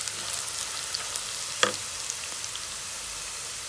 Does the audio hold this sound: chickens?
no